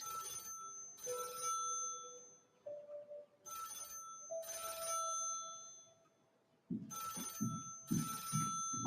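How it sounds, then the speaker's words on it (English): An old telephone bell rings in repeated bursts, several rings separated by short gaps, moderately near in a quiet room, with some low thuds near the end. "I need Betty to answer the phone"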